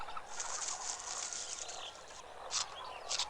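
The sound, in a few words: toucan call from the video game Putt Putt Joins the Parade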